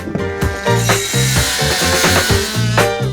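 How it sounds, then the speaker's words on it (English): An oscillating multi-tool makes a plunge cut into wood framing at a small off-grid cabin build in the woods. It gives a loud, continuous buzzing whine close by, with the pitch wavering as the blade bites. "Do you think I can just plunge cut it like raw?"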